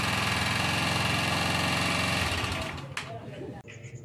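A motorcycle with a low-battery charging fault idles steadily in a close, pulsing mechanical drone, then the engine cuts off near the end and a few knocks and clicks follow.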